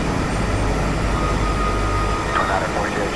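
A RealAir Turbine Duke turboprop in a flight simulator rolls out after landing with its propellers in beta, a loud steady broadband engine roar throughout with faint tonal whine near the end.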